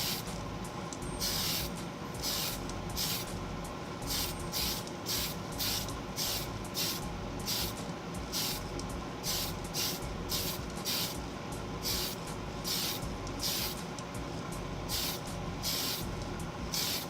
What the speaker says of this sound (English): So same thing, I'm going to spray past the part.